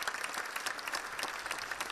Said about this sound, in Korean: 관람자들은 꽃다발들을 안겨주고 열렬한 박수갈채를 보냈습니다